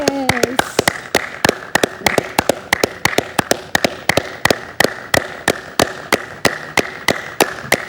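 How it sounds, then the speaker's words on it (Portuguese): A church audience applauds with a steady run of sharp, close claps, loud and rhythmic, with a brief voice at the start. "quando a gente bate palmas para a igreja, a gente bate palmas para vocês"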